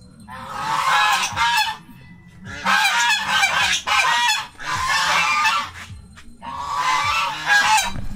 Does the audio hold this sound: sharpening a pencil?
no